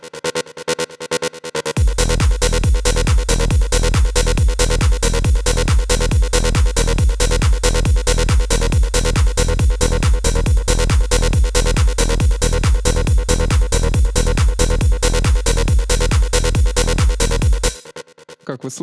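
An acid synth bassline shaped with an equalizer pulses in a steady, fast run of repeated notes, loud and continuous for about fifteen seconds before stopping abruptly, with no talking.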